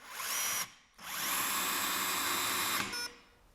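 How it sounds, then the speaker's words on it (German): A cordless screwdriver with a fully electronic clutch driving a screw: loud whining motor run, a brief dip, then a longer high-pitched whir that ends in a short electronic signal tone as the clutch trips, close and without talking. "hier haben wir eine voll elektronische Kupplung, die eben auch etwas, ein akustisches Signal von sich gibt"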